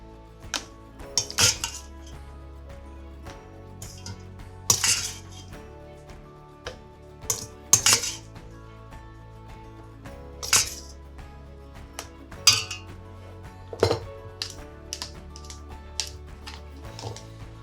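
A clean metal spoon clinks against a glass canning jar while scooping ground beef out, sharp bright taps spaced every second or two over a quiet kitchen background, close and distinct with no talking.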